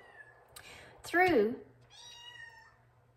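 A house cat meows to be let in, one loud, rising and falling meow in the middle with fainter cries before and after, close by, with a person's speech mixed in.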